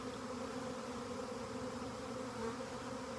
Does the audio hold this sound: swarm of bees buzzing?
yes